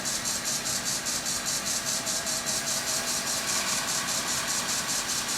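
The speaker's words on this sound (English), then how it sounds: "at the end of the cut, you can kind of raise this handle, then it acts more like a sander" A D-Way beading tool cuts a wooden bowl spinning on a lathe, giving a steady loud scraping hiss with a fast even pulse from the turning wood, continuous throughout with no talk.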